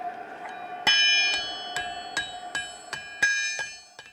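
A blacksmith forging a steel key strikes a red-hot rod on the conical horn of an anvil, making the curve for the key's eye: about nine sharp, ringing metallic hammer blows in a steady rhythm, each leaving a bright bell-like ring.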